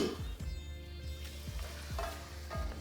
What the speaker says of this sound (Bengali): এই স্টেজে আমি এখানে লাউটাকে অ্যাড করে দিচ্ছি।